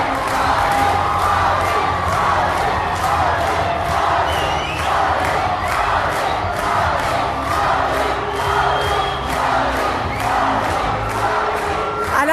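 A large crowd cheers and shouts loudly and continuously, with whoops rising out of the roar, during the swimsuit round of a beauty pageant.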